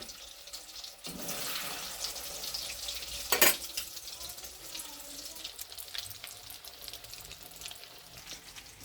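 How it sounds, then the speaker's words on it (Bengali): Egg kofta balls frying in hot oil give a steady, broadband sizzle and bubbling that runs throughout, with a brief sharper crackle burst partway through and no talking. "তেল গরম হয়ে গেছে, এবার কোপ্তার বড়াগুলো ছেড়ে দিই। একটু লাল লাল করে ভাজবো।"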